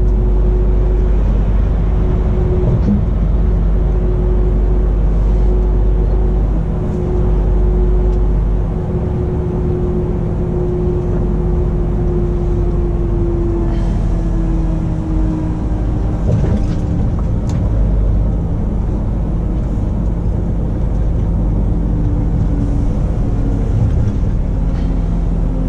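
A car picks up speed along a winding country road after a tight right-hand bend, its engine drone and road rumble steady and close throughout, with no talking.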